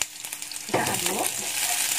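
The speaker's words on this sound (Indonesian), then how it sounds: "setelah paprikanya kita aduk-aduk sebentar" Bell pepper stir-fried in a pan for a young corn and meatball dish: a steady close sizzle with a louder burst of frying and stirring partway through, no talk.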